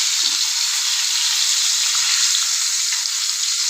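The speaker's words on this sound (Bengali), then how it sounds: "এই যে বন্ধুরা আমি একদম লাল লাল করে ভেজে নিচ্ছি" Something frying in a pan for a beef-style roast dish on a rainy day, a steady close hiss of sizzling oil throughout with a few faint low knocks, no talking.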